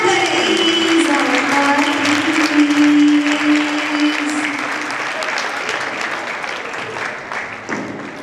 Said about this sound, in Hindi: तो जोरदार तालियों से उनका स्वागत